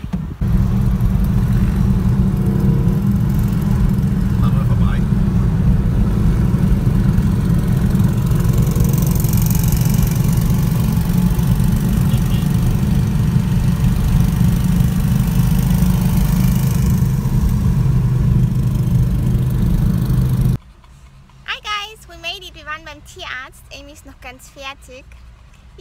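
Car engine runs steadily as the vehicle drives, a loud continuous low drone lasting about twenty seconds before it cuts off abruptly, followed by quieter cabin sounds and talk.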